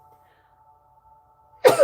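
A single sharp, loud sneeze bursts out at the very end after near silence with a faint steady hum.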